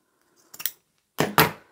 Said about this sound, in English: I'm going to remove these metal teeth,